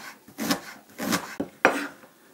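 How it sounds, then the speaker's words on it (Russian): A knife cuts onion finely on a board, giving a few close rasping, scraping strokes with uneven gaps and a sharper tap near the end. "А пока я нарезаю лук"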